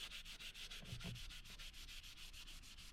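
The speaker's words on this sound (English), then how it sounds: "just keep sanding it away" Sanding worn plastic interior trim in a Mercedes W124 by hand, a quiet, rapid back-and-forth rasping in even strokes, close up and without talk.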